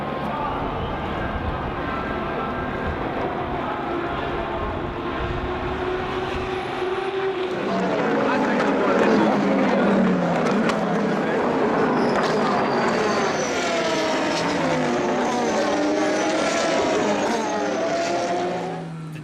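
DeltaWing race car at the Le Mans 24-hour race, its engine noise blending with other cars into a loud, continuous roar that swells noticeably partway through and holds steady.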